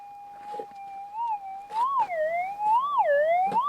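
While prospecting for gold over broken quartz ground, a metal detector holds a steady electronic tone over a gold target. The tone swoops up and down in pitch several times, with faint scraping knocks underneath.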